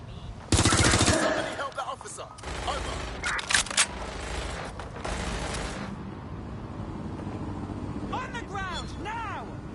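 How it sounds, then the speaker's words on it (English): Gunfire in Watch Dogs: Legion: loud bursts of rapid automatic fire and shots in irregular clusters mix with mechanical clatter and engine rumble, while voices shout over the action. "Shots fired!"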